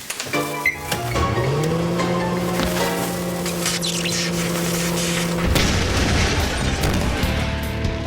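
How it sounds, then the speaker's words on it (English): A sustained rising electronic drone holds for several seconds, then a loud, rumbling Minecraft explosion erupts and crackles on until the end. "Explosions are seriously loud."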